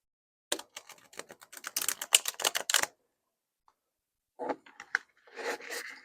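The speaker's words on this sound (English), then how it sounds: "It does riffle shuffle." A deck of Atomic Cat tarot cards is riffle shuffled up close, giving a rapid crisp fluttering of cards that lasts a couple of seconds. After a pause come a few softer clicks and a brief second riffle.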